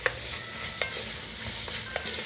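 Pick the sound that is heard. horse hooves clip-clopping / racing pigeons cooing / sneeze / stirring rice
stirring rice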